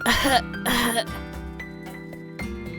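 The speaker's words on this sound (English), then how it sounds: "he started coughing again" Two harsh coughs from a man in quick succession in the Japanese indie horror game Bloodstained Snow, followed by a quieter stretch with faint breathy sounds and a soft tone underneath.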